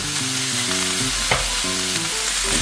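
Green onions seasoned with salt and pepper fry and sizzle steadily in a pan while being stirred, with scraping and clattering throughout and no voice present.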